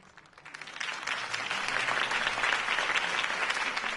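A crowd applauds a political campaign speech in Batman: The Telltale Series, the clapping swelling quickly from a soft start into steady, dense applause that holds to the end.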